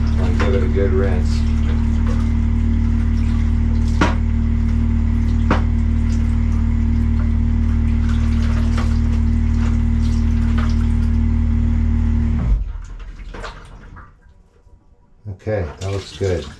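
A wet plate photograph gets a rinse under a loud, steady stream of running water that stops abruptly near the end, leaving quieter drips and light handling sounds.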